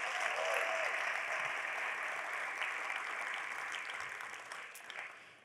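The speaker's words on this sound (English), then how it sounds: "let's give a big round of applause for the talented youth performers from the Jams Wind Ensemble" A crowd at the 2024 Santa Monica State of the City event gives steady, full applause for the youth performers of the Jams Wind Ensemble, the clapping thinning slightly toward the end.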